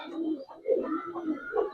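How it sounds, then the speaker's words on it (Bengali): A Jabra Pangkhi pigeon gives a few soft, close coos in a short rolling sequence, faint and alone. "জাবরা বাংখি একটা কবুতর"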